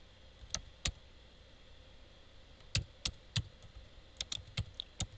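Faint, sparse key clicks on a computer keyboard while an address is typed into an office software form, coming in scattered single taps and short clusters over a quiet hiss.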